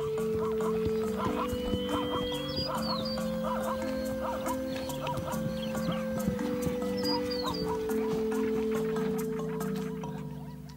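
Zebra foals running and whinnying on open plains during a migration, with several high whinnies and continuous hoof clatter against a steady layered background that may include a music bed.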